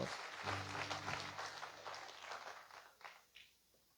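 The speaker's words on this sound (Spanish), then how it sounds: "Palmas, hermanos" A church congregation claps during worship, a soft, dense spatter of hands under a faint held musical tone. The clapping fades and thins out toward the end.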